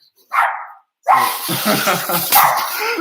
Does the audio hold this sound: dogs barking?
yes